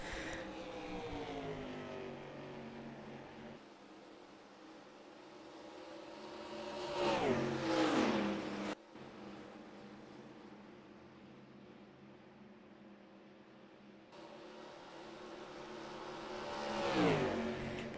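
Stock cars race in NASCAR Racing 2003 with steady engine drone and two louder passes, each swelling as a car roars close by and fades away.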